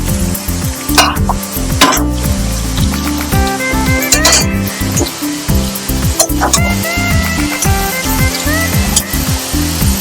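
Onion and tomato paste being stirred in a hot pan while cooking a Bengali malai jackfruit and prawn curry, with a steady sizzle and repeated scraping, clinking strokes of a spoon against the metal pan, close and loud, with no talk.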